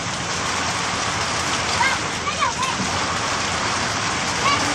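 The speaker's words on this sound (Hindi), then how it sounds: "देख सकते हैं दरवाजे के पास बहुत ही तेज़ बारिश हो रहा है" Heavy rain pours near a doorway at night, a steady, dense hiss of falling water that stays loud and even throughout.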